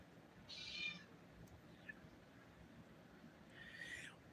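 A cat resembling a Russian Blue lets out soft, faint meows, one near the start and another near the end, heard indoors over low background hiss.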